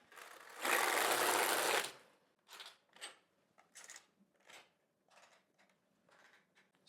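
A sock knitting machine works a zigzag cast-on row: one loud sustained whirring crank pass, followed by a series of short, quieter clicking and rattling bursts as the mechanism turns, with no voices.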